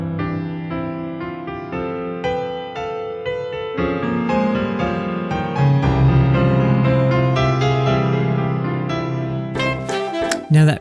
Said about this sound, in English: the key change becomes obvious and may sound something like this